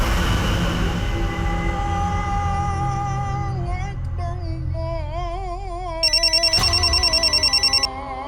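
A telephone rings near the end in a rapid trilling burst lasting under two seconds, layered over a steady background of music.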